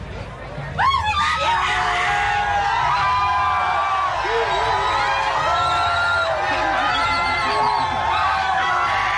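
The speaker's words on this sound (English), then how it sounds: "listen to the amount of people yelling my name out and just screaming for me" A large crowd screams, yells and cheers continuously at close range, with shrill whoops and overlapping voices forming a dense, loud wall of noise that swells just after the start and stays steady.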